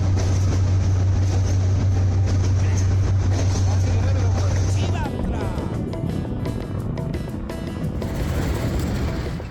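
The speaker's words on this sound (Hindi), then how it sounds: "टनल के अंदर से मुसाफिर ट्रेन कोयटा से चमन तक गुजरती है" Passenger train running through a long tunnel on the Quetta to Chaman line, a loud, steady, enclosed rumble with a low drone that fades midway, leaving clattering wheel and rail noise throughout.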